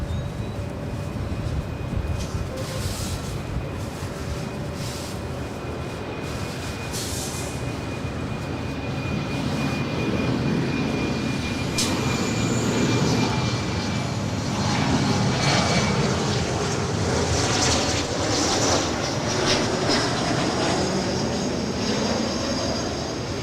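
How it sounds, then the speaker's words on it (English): A Bombardier Challenger 350 business jet passes at Los Angeles International Airport, a steady broadband jet roar with a whining engine tone that builds gradually and holds for over twenty seconds, moderately near. "that is a Bombardier Challenger 350 from somewhere"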